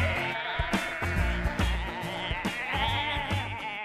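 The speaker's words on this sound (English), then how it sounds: "Old Pop's taking them to see the sheep." Sheep bleat in a farm setting with wavering, tonal cries over a steady, busy music-like backdrop, several calls overlapping close and fairly loud across the stretch.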